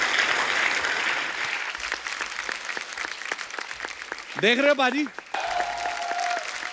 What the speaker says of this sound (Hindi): कितनी तालियां बजा रहे, वाह।